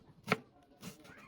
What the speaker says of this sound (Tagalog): maghihiwa na rin ako dito ng mga gagamitin natin sa paggisa. Meron lang ako dito bawang at sibuyas